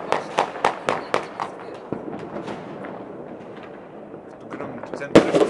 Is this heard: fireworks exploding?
yes